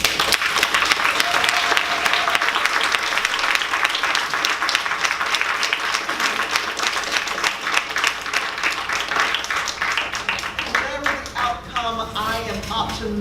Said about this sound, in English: I know that you just cannot wait to applaud them.